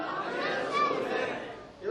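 A small crowd at a Mawlid religious gathering chants a slogan back in unison, a short burst of overlapping voices, moderately loud and close.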